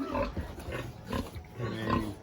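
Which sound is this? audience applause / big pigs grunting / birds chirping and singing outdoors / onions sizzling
big pigs grunting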